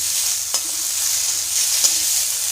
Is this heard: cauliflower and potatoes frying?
yes